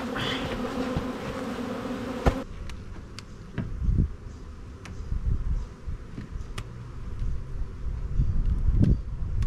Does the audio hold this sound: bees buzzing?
yes